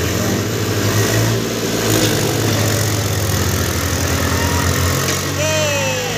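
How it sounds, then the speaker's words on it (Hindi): A tractor stuck in a farm field, chained and being pulled free, revs its engine in a loud, continuous, close-up drone with a steady rumble throughout; faint voices may sit beneath it. "तो अब देखो कैसे निकाला जाएगा ट्रैक्टर"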